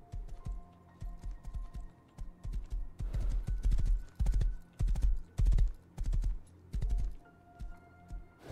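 Horse hooves clip-clop in a steady, uneven trot in the survival video game Rust, close and fairly loud, with soft clicks of keyboard typing mixed in and brief gaps between strides.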